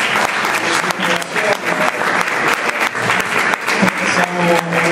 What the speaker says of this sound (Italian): E un grossissimo applauso al poeta